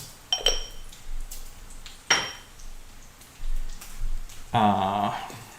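Sugar is stirred into pancake batter in a bowl, with a few scattered clinks of a utensil against the dish, soft scraping, and a brief harsh tonal clatter near the end.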